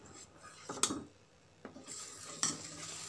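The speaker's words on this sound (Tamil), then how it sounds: "ஏலக்காய் சேர்த்து நல்லா கலந்து விட்டுக்கிறேங்க." A spoon stirs vermicelli payasam in a pot in a few separate scraping strokes, with a faint bubbling simmer underneath and quiet gaps between strokes.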